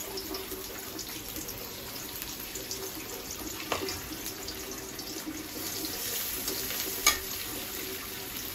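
Onions frying in a hot pan that will be used for cooking fish give a steady low sizzle throughout, with faint clinks and a couple of brief sharper ticks from utensils. No one speaks.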